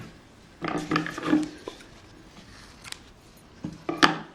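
Scissors snip loose threads from a finished blouse in short bursts of close, dry cutting and rubbing sounds, two clusters separated by a quiet pause.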